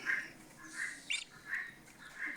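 A tiny duckling lets out a series of short, raspy squawks while being handled, spaced fairly evenly and sounding weak and thin.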